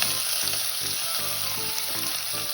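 Onions and green chillies fry in hot oil for an Andhra-style chicken gongura curry, giving a steady close sizzle with rhythmic low stirring scrapes.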